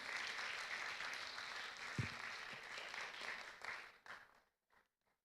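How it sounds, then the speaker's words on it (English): Audience applause at an international public lecture, a steady wash of clapping from a crowd that holds evenly, then thins and fades out near the end, leaving only a few scattered claps. "Give applause, everyone."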